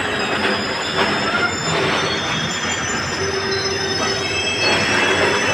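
A train rolls steadily through Bhagat Ki Kothi railway station in Jodhpur with a loud continuous rumble, metallic wheel squeal and faint clattering, with no voices.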